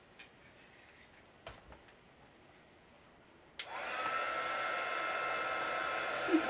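A heat tool melts embossing powder for a yellow craft doily. A few soft clicks sound in near quiet, then the tool switches on abruptly and gives a loud, steady blowing whoosh to the end.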